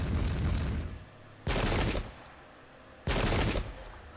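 Three loud bursts of musket volley fire from the video game Pike and Shot during an English Civil War battle at Stratton, each a dense crackling fusillade that rings out briefly before fading, with no talking.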